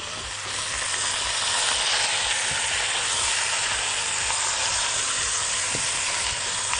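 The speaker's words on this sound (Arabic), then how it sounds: "ابدأ انزل البصل وانزل الثوم على الفراخ ونديهم تشويحة مع بعض" Chicken pieces sautéing over high heat with onion and garlic, a loud, steady, broadband sizzle and hiss that carries unbroken for several seconds with faint stirring knocks underneath and no voices.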